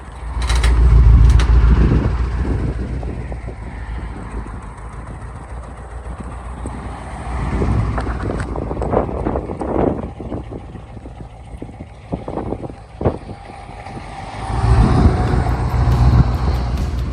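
A BMW M5 engine runs at a steady idle with a deep, continuous low rumble, loud and close, swelling briefly at the start and end with some clatter and knocks in between.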